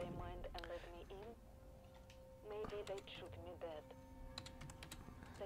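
Rapid keyboard typing at a computer terminal in the video game Alien Isolation, in bursts of clicky keystrokes separated by short pauses, set against a low ambient hum with a voice talking over parts of it.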